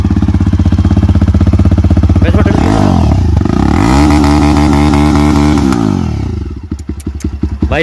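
A Jawa motorcycle engine revs loudly and steadily with a deep thumping idle, the pitch rising and falling through several throttle blips before tapering off.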